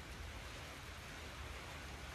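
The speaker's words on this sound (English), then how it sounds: "and it's raining" Steady rain falls outdoors, a faint, even hiss of drops with no distinct individual hits, continuous throughout with no talking.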